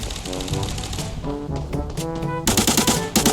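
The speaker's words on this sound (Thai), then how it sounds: "นี่ไงมีเสียงยิงขึ้นอีกแล้ว" Rapid bursts of gunfire from the Arena Breakout video game on a dark farm map, rattling over a steady music bed, with a sharper, louder volley near the end.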